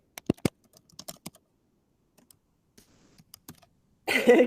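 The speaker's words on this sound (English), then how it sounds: "See if I can type here." Someone types on a computer keyboard: a few close, sharp key clicks in scattered short bursts against near silence, then a brief louder rustle at the end.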